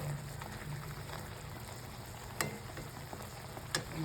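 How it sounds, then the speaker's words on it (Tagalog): Fresh squid sautés in a pan with garlic, onion and chili, giving a soft, continuous sizzle with a few sharp clicks of stirring. No one speaks over the quiet frying. "Ginisa ko lang sa bawang sibuyas at sili."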